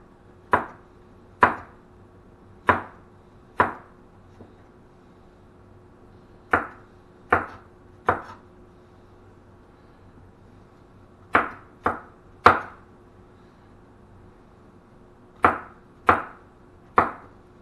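Vegetables are sliced with a knife on a board in a series of sharp, crisp chops, coming in quick bursts of two to four strokes separated by short pauses, close and clear with no talking.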